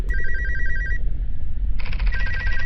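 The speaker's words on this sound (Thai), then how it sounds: "โทรศัพท์งั้นเหรอ แต่ว่า ใครมันโทรมาในเวลาแบบนี้เนี่ย" A telephone rings in the horror video game Alone: loud electronic trilling bursts, a pause, then the ring starting again, close and clear with no talk.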